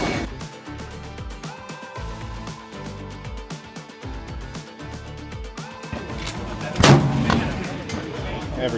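A .50 caliber rifle fires at a steel target 1,090 yards away on an outdoor range at a trade-show shooting event. A loud, sharp blast lands near the seven-second mark with a long decaying tail, over a steady bed of background music.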